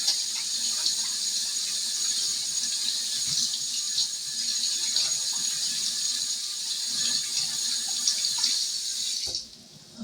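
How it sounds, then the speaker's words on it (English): Kitchen tap running steadily into a sink while hands are washed, a close continuous hiss of water with small splashes, cut off abruptly near the end. "let me wash my hands right quick"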